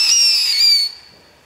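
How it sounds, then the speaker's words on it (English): A novelty firework lets out a single high, shrill whistle that holds for under a second and then cuts off abruptly, loud and close, with a faint tail afterward. "Those ones just whistle and whine"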